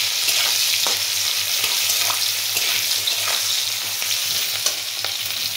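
Fish oil and curry sizzle and crackle steadily in a pan, a continuous bright frying hiss with small pops and stirring scrapes, heard up close with no voices.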